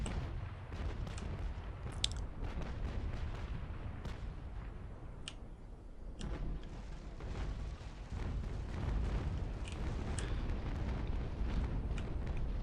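Ship cannons fire broadsides in the Naval Action video game, with a series of irregular booms and sharp cracks scattered over a continuous low rumble of battle and no voices.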